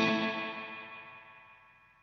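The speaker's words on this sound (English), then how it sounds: "It's a nice, slightly modulated, warping tail." A guitar amp's reverb rings out as a slightly modulated, warping tail that fades steadily and grows duller over about two seconds, heard alone with no playing over it.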